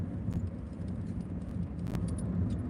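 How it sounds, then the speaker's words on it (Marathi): Steady low rumble of a car's interior while riding along, continuous and moderately loud, with faint rattles and clicks on top and no talking. "गाडी ते आवाज येईल थोडा"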